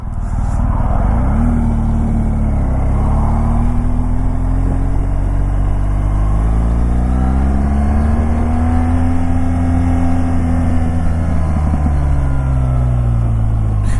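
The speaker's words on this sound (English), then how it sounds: "Nice poppy sounds. Do love that about this car, this motorcycle." A motorcycle engine runs loud and steady nearby, revving up and down with rising and falling pitch and a popping exhaust, no voices.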